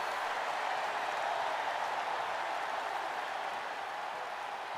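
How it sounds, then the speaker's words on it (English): A large arena crowd in the WWE 2K22 wrestling video game roars and applauds for Edge's entrance, a steady dense wash of cheering that holds loud throughout with no speech. "Crowd still very much love Edge"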